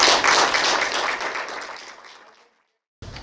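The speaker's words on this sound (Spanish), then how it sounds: "este aplauso que se van a dar es para ustedes por todo este cambio logrado" A short burst of applause from workshop participants at a job-readiness session: dense clapping that starts loud and fades out over about two seconds, followed by brief silence.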